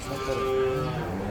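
A cow lows with a long, steady moo at a busy cattle market, close by, with the murmur of the crowd and other livestock behind it.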